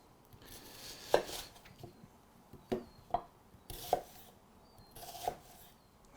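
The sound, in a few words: knife chopping red onion into chunks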